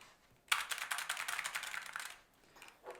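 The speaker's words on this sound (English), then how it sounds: "A mechanical keyboard, a gaming keyboard, and yeah, I just use it because I really like how it sounds." Rapid clicking of a mechanical gaming keyboard's keys in a steady burst lasting about a second and a half, then a brief pause and a few more keystrokes.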